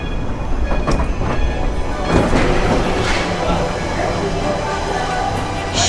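Schweizer Bobbahn bobsled coaster at Europa Park rumbles and clatters along its track in a steady, loud run, with faint brief squeals and people's voices mixed in.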